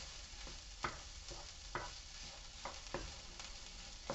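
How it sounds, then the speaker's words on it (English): Scrambled egg is stirred into rice frying in a pan, giving a soft steady sizzle broken by a few faint scraping strokes of a utensil, quiet and without talk. "once it's pretty much all the way scrambled, you can start mixing it into the rice and it'll continue to cook in there."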